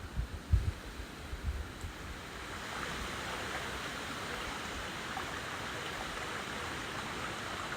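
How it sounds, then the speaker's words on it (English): A small stream flows at a footpath crossing on a countryside walking trail, its soft, even rushing gurgle rising after a few muffled footstep thumps and then holding steady and moderately close, with no talking. "We've now reached another little stream crossing."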